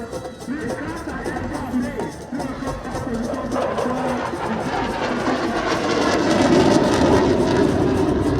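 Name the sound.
aircraft engine at Independence Day display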